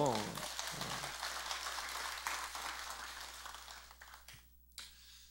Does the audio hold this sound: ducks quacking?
no